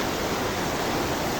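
A flowing mountain stream at Shohimardon rushes steadily and evenly, a dense, close wash of water noise with no pauses or voices.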